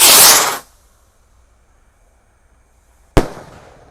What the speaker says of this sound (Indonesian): Dan ini ada roket paling besar ya, Gold Dragon Rocket.